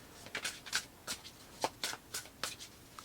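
Tarot cards being shuffled by hand, a close, quiet run of crisp riffling bursts about every half second, no voices.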